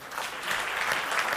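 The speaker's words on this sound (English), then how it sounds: "A round of applause, guys." An audience applauds at a film city and Toronto treaty signing event, with dense, steady clapping holding at an even level throughout the short burst.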